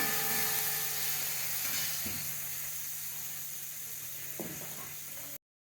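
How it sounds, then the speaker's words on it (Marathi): Onion and tomato sauté in a pan for misal, a soft steady sizzle and hiss with a couple of stirring scrapes, ending in a sudden cut to silence. "आता कांद्याला टमाटा कांदा टमाटा पण छान परतून घेऊया"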